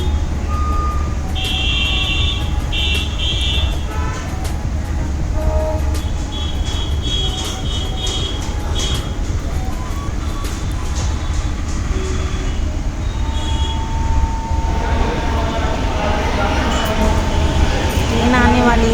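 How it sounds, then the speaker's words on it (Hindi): A train on the small line at Lucknow railway station, heard as a loud, steady rumble of rail noise with high buzzing tones and a rising roar near the end, amid station bustle and voices. "ट्रेन आने वाली है छोटी लाइन पे"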